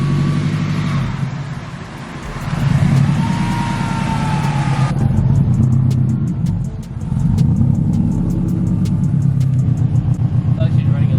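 A boosted Subaru-era FRS engine idles roughly with a loud, uneven rumble that surges and dips, with a rapid ticking pulse in the latter part and people talking over it.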